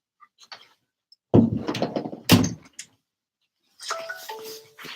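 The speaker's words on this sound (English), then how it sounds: "I had to shut my door" A door is shut nearby with a couple of solid thuds and some rattling handling noise, followed by faint mechanical clicks and a softer tonal sound at the end.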